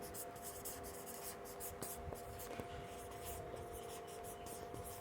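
Faint scratchy strokes of writing on a board during a hydrostatics lecture, soft and continuous under a steady background hum, with no clear talk.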